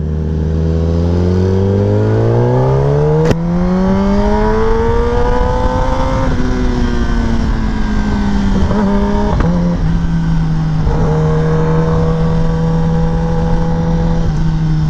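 A Kawasaki ZX-10R motorcycle engine is revved hard and loud up close, its pitch sweeping up and down through several throttle blips and sustained high revs, with no talking.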